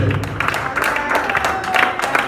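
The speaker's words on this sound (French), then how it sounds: "Acclame-le fortement, s'il te plaît." A church congregation at a French-language worship service cheers and applauds their God, giving a dense, steady wash of clapping and raised voices, loud and continuous throughout.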